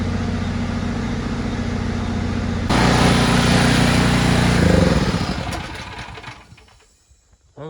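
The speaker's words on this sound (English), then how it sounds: "It's a pretty small air compressor" A small air compressor runs steadily while inflating a tire on a farm, with its engine-like drone shifting to a rougher, busier tone partway through before fading out near the end.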